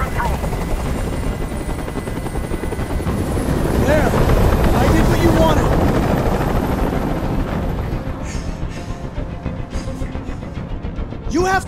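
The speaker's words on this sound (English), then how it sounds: "Tell that helicopter to get out of here." Helicopter hovering close overhead in the video game Detroit: Become Human, a loud continuous rotor thrum with rumbling wind-like noise, swelling in the middle and easing toward the end.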